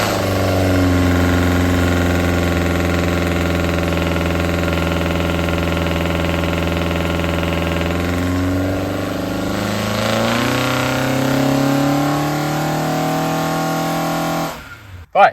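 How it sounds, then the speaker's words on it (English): A Ford Escort Group 1 Pinto engine runs loud and close on a dyno, holding a steady high-revving drone and then dropping as the revs fall and shift, ending with a brief clatter. "Let's show a few dyno pulls."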